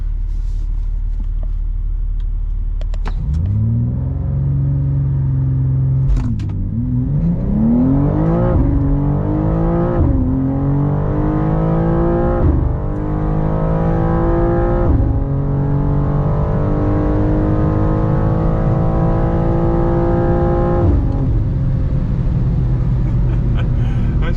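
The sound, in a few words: 2024 BMW M2 G87 launch control acceleration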